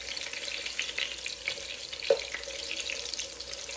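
Patties fry in hot oil with a steady soft crackling sizzle, fairly quiet and close, broken once by a brief sharp clink near the middle, no talking.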